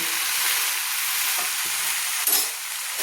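Ground cumin, coriander and other spices stirred into bottle gourd stems in a frying pan, a dense steady sizzle with a few soft scrapes and knocks of the spoon, close and uninterrupted by talk.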